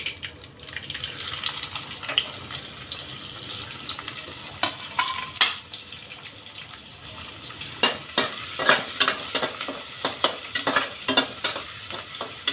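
Chopped onion frying in a mix of oil and ghee for a vegetable pulao, a steady close sizzle with repeated stirring clinks and scrapes growing busier toward the end.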